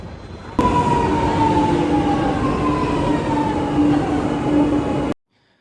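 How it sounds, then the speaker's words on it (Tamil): Metro train pulling into a station, a loud sustained rumble with a long, gently falling whine and squealing wheels, ending abruptly. "மெட்ரோ ட்ரெயின் வந்தாச்சுங்க."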